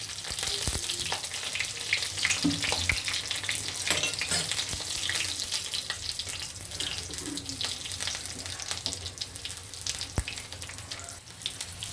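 Bay leaf and green and dried chillies sizzle in hot oil for a dal tempering, a dense continuous crackle and hiss with occasional clicks from the pan, fairly close and steady.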